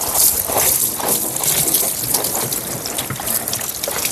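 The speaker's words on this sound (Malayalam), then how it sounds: "ഇങ്ങനെ ക്ലീൻ ചെയ്ത് കുറച്ച് സമയം കൊണ്ട് വെള്ളം ഒഴിച്ച് കഴുകാം" Water poured over an air conditioner unit to wash it gushes and splashes continuously, close and loud, in an uneven, surging flow.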